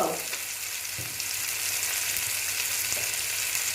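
Ground cumin, coriander and chilli powders fry in hot oil for katla fish tel jhal, a steady close sizzle broken by a few soft scrapes as the spices are stirred around the pan.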